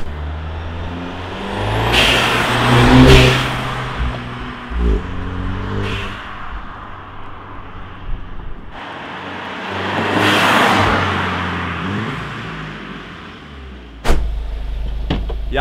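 A VW Golf R with a GFB DV X blow-off valve drives along a street, its engine revving up and easing off through load changes, with two loud whooshing surges and a sharp thump near the end.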